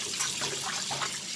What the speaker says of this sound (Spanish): yo le echo agua a estos pescuezos